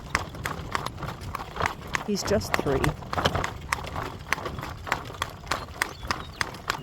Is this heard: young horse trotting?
yes